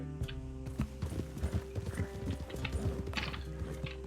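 A horse's hooves clip-clop in the Red Dead Redemption 2 video game, with a run of uneven, crisp knocking steps over a low game backdrop and scattered faint mechanical clicks.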